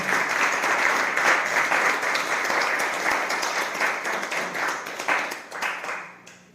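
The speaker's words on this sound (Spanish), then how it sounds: "Vamos a dar un aplauso a nuestro Señor esta noche" A church congregation at an evening healing service claps for the Lord in dense, close applause that holds steady, then fades out at the end.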